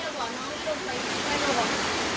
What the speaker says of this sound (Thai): น้ำมาแรงมากค่ะ ขึ้นเรื่อยๆนะคะ